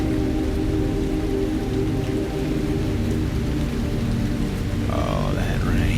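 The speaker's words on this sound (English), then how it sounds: "Oh, that rain." Steady rain pours down loud and continuous throughout, a dense hiss on a surface with a low rumble beneath, briefly joined near the end by a faint higher tone.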